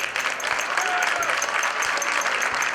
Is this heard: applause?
yes